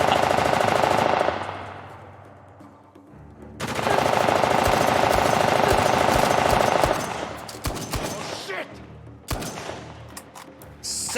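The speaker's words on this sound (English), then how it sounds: "You just cannot fight that suppressive fire, man" Sustained bursts of automatic suppressive gunfire in Uncharted: The Lost Legacy on PS5, loud and dense, easing off before a second long barrage, then scattered shots trailing away.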